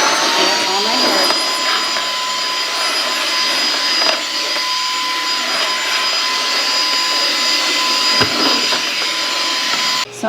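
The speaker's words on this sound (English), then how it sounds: "the vacuum is doing its thing out here" A household vacuum cleaner drones steadily and loudly at close range, a continuous whining roar with a thin high tone running through it and small bumps as it moves along the floor.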